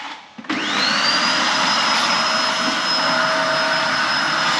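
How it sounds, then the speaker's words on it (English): Vacuum cleaner switched on while cleaning out a messy shed, spinning up quickly to a loud, steady whining roar that holds close and unbroken. "and of course we vacuum the shed"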